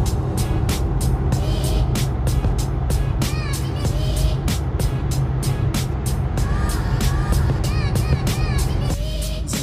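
Audi B5 S4 from 2001 at nearly 30,000 miles cruising on the road, a steady low engine and road rumble inside the cabin, with clicking and chirping sounds over it and a voice speaking now and then.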